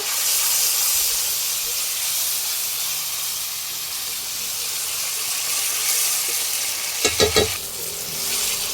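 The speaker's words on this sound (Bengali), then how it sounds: "ভালো করে মশলাটাকে এবার কষিয়ে নেব" Cumin and coriander paste with turmeric fries in a pan with a steady, close sizzle and hiss, then a short burst of spoon scraping and stirring near the end.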